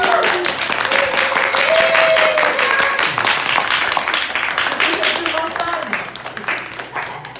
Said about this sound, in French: On applaudit Hérisson.